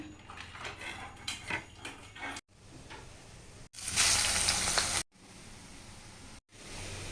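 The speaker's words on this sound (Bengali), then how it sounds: "প্রথমে আলুটা ভেজে নিচ্ছি" Potatoes fry in a pan for chicken biryani, with a soft sizzle and metallic clatter of utensils against cookware, separated by short pauses and one brief louder burst of hiss.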